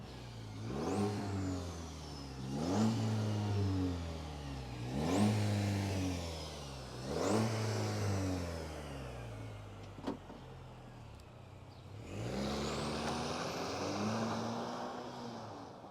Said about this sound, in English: How about an exhaust clip?